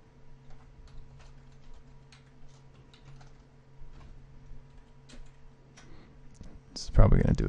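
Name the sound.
typing on a computer keyboard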